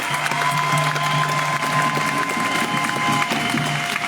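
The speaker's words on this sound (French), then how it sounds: "On peut applaudir très fort" A crowd at a Lyon protest rally for Georges Abdallah and Palestine applauds steadily, mixed with murmurs and voices over a sustained tonal hum.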